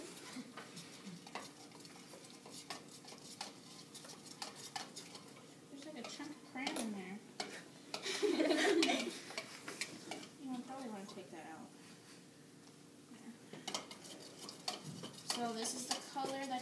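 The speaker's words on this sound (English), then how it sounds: "You're going to want to take it and stir it." Melted crayon wax stirred in a pot, a spoon scraping and clinking against the metal in uneven strokes, close and moderately loud with a faint sizzle underneath, and a person talking over parts of it.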